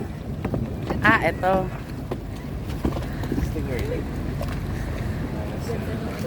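A low speedboat engine rumbles under strong wind buffeting the microphone, with people talking briefly over it.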